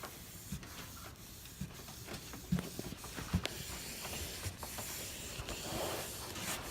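Hand block printing, with a baren pressed and rubbed over the paper on an inked block, giving faint soft rubbing and scraping under a steady low hiss, with a few light taps.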